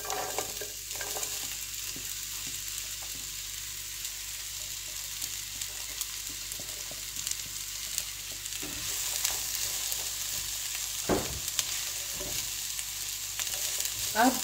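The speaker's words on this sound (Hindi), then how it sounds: "प्याज को हल्का सा फ्राई करना है जब तक कि इसका हल्का सा कलर चेंज ना हो जाए" Finely chopped onion fries in oil in a pan for egg bhurji, producing a quiet, even sizzle with occasional spatula scrapes and stirring knocks, louder toward the end, no voices.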